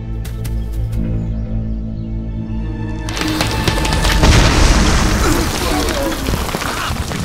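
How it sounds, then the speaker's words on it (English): A jungle grenade fruit bursts open in a loud, deep explosion that rumbles on with crackling, rain-like debris, following a quieter stretch of steady low tones. "Such fruits will easily explode when they ripen."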